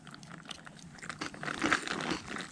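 Crunchy Fritos corn chips eaten alongside chicken and potatoes, crunched and chewed up close in a steady run of crisp bites that grows louder toward the end.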